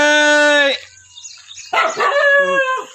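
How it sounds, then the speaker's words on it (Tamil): Street dogs bark out on a town street, a run of loud, harmonic, close barks and howl-like yelps, a brief pause, then another burst of barking. "ஐயோ நாயெல்லாம் வருது"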